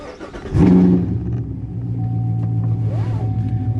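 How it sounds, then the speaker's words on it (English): A Corvette V8 with headers and straight pipes, close and loud, giving a sharp throttle blip and then settling into a deep, rumbling idle with a brief rise in pitch near the end. "It really sounds like an actual V8 engine, and it really sounds like a muscle car"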